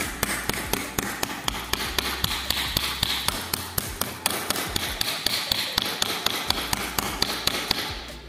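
Rapid, steady hammer taps on aluminium sheet being hand-formed into a half sphere, dozens of sharp close strikes in an even rhythm with no talking.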